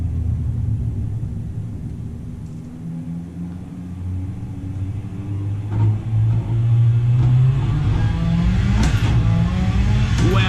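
A car engine in a sim racing game rumbles loudly at idle, then revs climb and fall in smooth sweeps, the drone rising in pitch toward the end with a few brief mechanical clicks.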